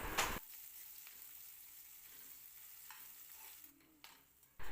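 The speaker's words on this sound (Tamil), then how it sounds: "இப்போ இந்த வெங்காயம் வந்து நமக்கு நல்ல கோல்டன் ப்ரௌன் கலரில் வதங்கி வரணும்." Sliced onions with curry leaves fry in a kadai with a soft, steady sizzle, faint and continuous, with brief stirring scrapes at the start and end and no voices.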